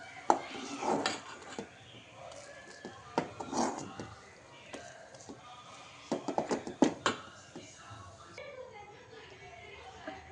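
Sweet milk kolukattai dough being stirred in a pan for a Chettinad recipe, with repeated scraping and clinking of a utensil against the pan in irregular bursts, with faint talk in the background.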